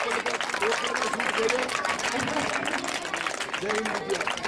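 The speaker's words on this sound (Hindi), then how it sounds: "सभी बच्चे लगातार तालियां बजाते हैं।" Schoolchildren clapping loudly and continuously in a school gathering, a busy crowd-like patter with children's voices and chatter mixed throughout.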